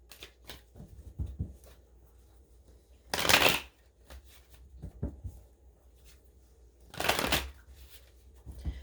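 Twin Flame Oracle cards by Mystic Moon being shuffled in two crisp, riffling bursts a few seconds apart, close and clear against a quiet room with light handling taps between them.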